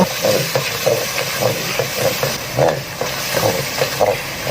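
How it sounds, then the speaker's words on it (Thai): Panang curry paste mixture with coconut and cane sugar is stir-fried in a pan, a steady hissing sizzle broken by rhythmic scraping strokes of the spatula, close and fairly loud, with no talk. "จากนั้น เราก็ทำการผัดส่วนผสมของเขาให้เข้ากัน"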